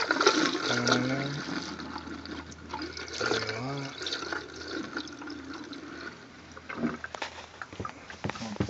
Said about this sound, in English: I'm going to pour about a cup of antifreeze down in there.